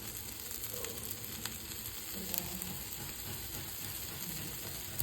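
Dosa roasting in ghee on a hot pan gives a steady, close sizzle and frying crackle that runs unbroken throughout, with no voices.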